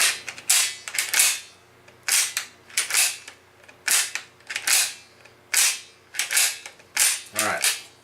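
The bolt of a Spanish Mauser rifle, with its magazine spring removed, is worked back and forth again and again, making sharp metallic clacks and slides in a steady, loud rhythm of repeated cycles.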